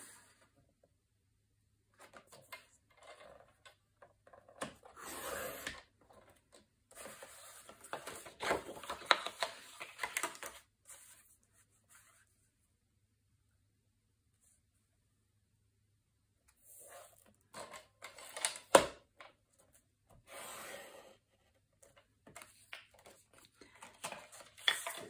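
Patterned paper cut for a mini album spine, heard as two bursts of close, crisp slicing and rustling separated by a quiet pause, with no voices.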